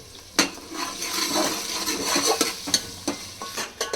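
Biryani masala fried and stirred in a pan for chicken biryani, a loud, close sizzle with regular scraping spoon strokes and a few sharp taps against the metal.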